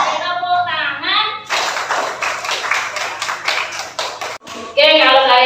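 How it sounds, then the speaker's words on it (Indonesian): A classroom group of students claps hands together in a rhythmic burst of several seconds, set between a teacher's spoken cues. "Siap belajar. Tepuk tangan."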